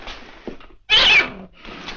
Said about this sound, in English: Our cat had kittens and they're all over the place.